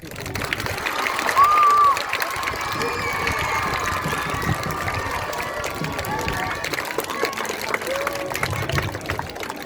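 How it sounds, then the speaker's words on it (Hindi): A crowd claps steadily through the whole stretch at a Teacher's Day celebration, a dense wash of applause with voices talking and calling out over it. "तालियां रुकनी नहीं चाहिए"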